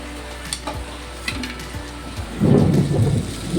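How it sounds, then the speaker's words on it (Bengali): Chowmein with potatoes and fried eggs is stir-fried in a pan: a few sharp utensil knocks and scrapes, then a louder burst of sizzling and tossing toward the end. "চাউমিনটাকে একটু ভালো করে নেড়ে দেবো।"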